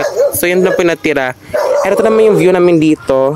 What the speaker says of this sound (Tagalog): Pasensya na po sa aso kasi ang ingay.